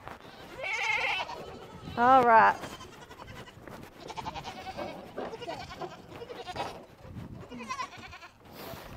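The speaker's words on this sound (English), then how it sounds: "We need to feed the big goats." Goats bleat on a homestead at feeding time, with a couple of loud, wavering calls near the middle, while people talk casually over the scene throughout.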